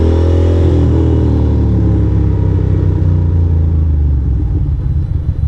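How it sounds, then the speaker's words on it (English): A Ducati motorcycle engine idles and rumbles steadily up close in a New York City setting, a deep continuous throb holding for several seconds with no talk over it. "That was my bike making that noise."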